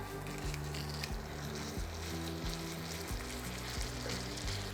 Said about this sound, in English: we're gonna start searing our burger